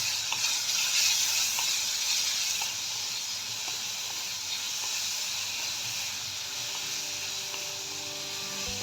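Crushed green chili and garlic fry in oil for vada pav with an even, hissing sizzle that is slightly louder at first, then settles into a steady, close crackle with no talk.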